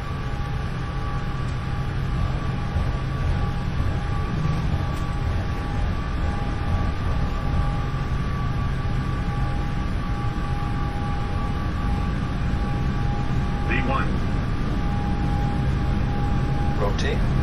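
An airliner rolls for takeoff in a flight simulator, making a steady, loud engine roar with a constant tonal whine throughout. A voice talks over it.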